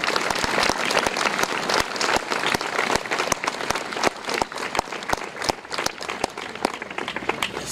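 Close, lively applause from a gathered crowd at a memorial tribute, with distinct individual claps standing out against the dense clapping, steady for the whole stretch.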